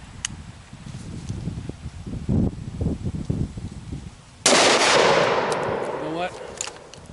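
Rifle fire sounds outdoors at a target about 100 yards out, with the shooter standing freehand. A sharp, loud report cuts in after quieter handling noises and muffled talk, then rings and decays over the next couple of seconds.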